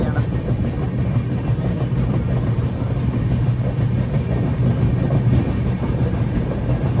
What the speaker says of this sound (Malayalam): 8:20 ഭദ്രക റെയിൽവേ സ്റ്റേഷനിലേക്ക് ഇതാ ട്രെയിൻ എത്തിക്കൊണ്ടിരിക്കുകയാണ്.